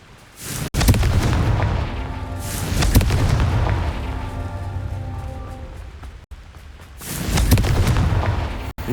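Fiery blast spell explosions in the Hogwarts Legacy video game, three heavy booming bursts with rumbling low tails that fade between hits, loud and close.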